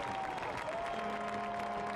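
Crowd at a football match claps and cheers for a goalkeeper's quick save, a continuous wash of applause from the stands over a low stadium hum, with a faint tonal sound running through it.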